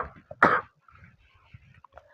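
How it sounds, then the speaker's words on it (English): A single sharp cough-like throat clear bursts out close to the mic, followed by faint murmuring and small mouth sounds in a quiet room. "I'm having a serious cough nowadays"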